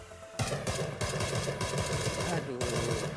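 Loud, rapid automatic fire from an M762 rifle in a shooter game comes in sustained bursts of sharp, closely spaced shots, with a brief pause between them.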